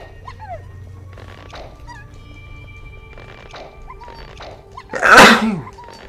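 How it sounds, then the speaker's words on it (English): One loud, sharp sneeze bursts out near the end after several seconds of quiet, faint background sounds. "And now I need to sneeze."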